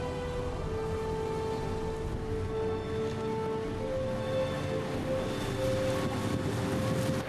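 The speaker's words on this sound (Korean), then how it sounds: "그 자리엔 인공폭포가 멈추지 않고 흐르고 있습니다." The man-made waterfall at the World Trade Center memorial site in New York flows without pause, a continuous, even rushing wash heard from a distance, with a soft steady musical tone laid over it.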